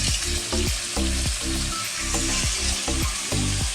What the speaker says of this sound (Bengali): এই অবশিষ্ট তেলে আমি দিয়ে দিচ্ছি এই পেঁয়াজটা